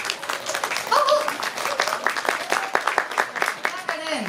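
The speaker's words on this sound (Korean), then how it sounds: "박수로 맞아주시기 바랍니다" A press-conference audience claps to welcome comedian Hong Hyun-hee onto the stage at a KBS W show launch event, a dense patter of hands under a host's amplified voice and other voices.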